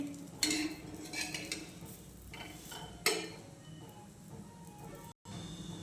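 Puran poli turned in oil in a pan: faint metallic clinks and scrapes of a spatula on the pan over a soft, low frying hiss, close but quiet, with two sharper taps.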